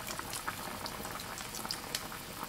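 Pork skin jelly simmers in a covered pot, making a soft, continuous bubbling patter with small pops, fairly quiet and steady throughout.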